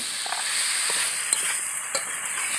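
Potatoes and chicken with chilli powder and spices sizzle steadily in a kadai while being stirred, a constant hiss broken by a few soft scraping knocks from the spoon.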